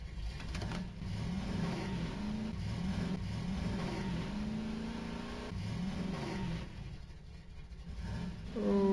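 A four-wheeler revs and accelerates in the video game Starground, its engine tone rising and falling steadily for several seconds with no talk over it.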